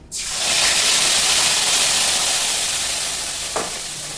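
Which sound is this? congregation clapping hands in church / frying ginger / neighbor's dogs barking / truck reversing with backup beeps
frying ginger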